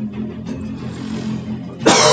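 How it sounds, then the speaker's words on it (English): A short, rough cough close to the mic, with a brief sharper burst of noise at the end. "Still coughing a lot, sorry about that."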